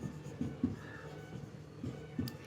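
Chalk or marker strokes on a classroom board, a series of soft scratchy bursts in an uneven rhythm, close and fairly quiet with no talking over them.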